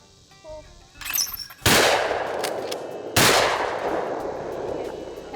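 Two loud, sharp shotgun blasts about a second and a half apart at an outdoor clay target shoot in Wisconsin, each with a long ringing decay, preceded by a faint metallic clatter.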